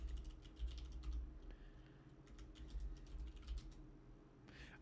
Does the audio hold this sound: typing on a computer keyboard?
yes